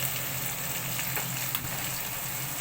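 Sliced onions sizzle steadily in a hot pan for veg fried rice, a soft, even frying hiss with a few faint crackles and no voices.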